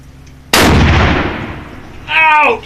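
One sharp, very loud gunshot cracks at an outdoor shooting range and rolls into a long echoing boom, followed by a brief burst of a voice reacting close by.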